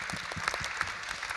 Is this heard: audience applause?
yes